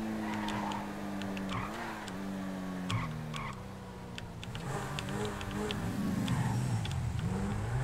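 A car speeding up, its engine note rising and falling through gear changes, with brief tire squeals and clatter, close and steady throughout.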